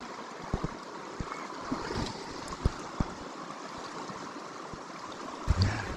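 The Selway River in Idaho rushes below a campsite, a steady broad wash of flowing water heard from nearby, broken by occasional light knocks and thumps, with no talking.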